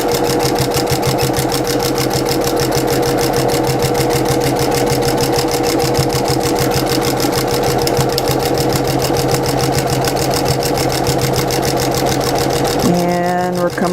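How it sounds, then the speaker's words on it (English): A sewing machine runs steadily at high speed, stitching a baby blanket, its rapid even needle rhythm continuing loud and close until it slows and stops near the end. "I'm going to stitch all the way down."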